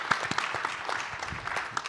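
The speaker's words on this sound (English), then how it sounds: "Okay, another big round of applause for that." A round of applause from a conference audience at a fair business retreat, sparse and uneven clapping with distinct individual hand claps standing out, moderately close.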